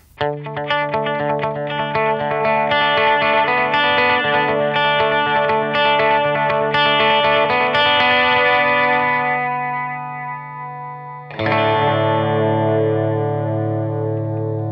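Electric guitar notes played through a tape delay pedal, echoes stacking and trailing behind, then a fresh chord struck near the end that rings out.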